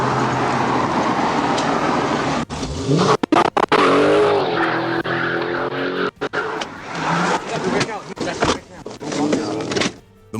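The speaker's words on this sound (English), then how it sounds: "The engine's growl echoed between overpasses, rattling every window it passed." A muscle car engine roars loudly and rises in pitch as tires squeal in a long skid, broken by sharp cuts and bursts of revving, with a voice speaking over parts of the action.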